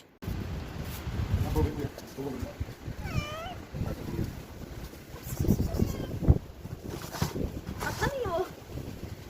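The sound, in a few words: pet cat meowing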